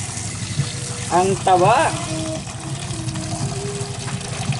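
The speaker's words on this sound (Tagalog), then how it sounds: "Lagyan natin ng tubig." Water pours into a cooking pot holding rock crabs, a wet gushing splash under a short spoken remark, with brief squeaky tones and a steady background hum.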